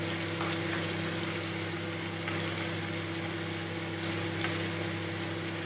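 Chopped onion and garlic fry in a pan for a chicken curry, a steady, dense sizzle that holds at one level throughout, with a low hum underneath and no voices.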